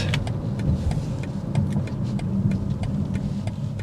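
A 2023 BMW X6 M50i rolls to a stop, its engine and road noise giving a steady low hum with faint rhythmic ticking, close and moderate in level without any talk.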